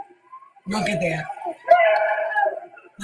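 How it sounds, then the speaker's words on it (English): Screams from people in Nashville, Tennessee after an intentional explosion on Christmas morning, heard as two short bursts of high, wailing voices at some distance. "Listen to the screams"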